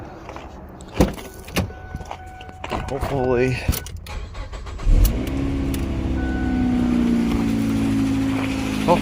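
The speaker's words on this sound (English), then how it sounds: "start this car up" A 2007 Ford Fusion with a faulty air conditioner cranks and catches after some clicks and handling noises, then settles into a steady idle with a fan-like drone, while someone speaks briefly.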